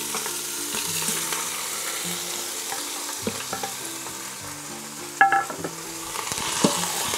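Cubes of beef brisket and tendon sizzle and fry in a pot for a Vietnamese stew, a steady close crackle with occasional clinks and scrapes of stirring, and no voices.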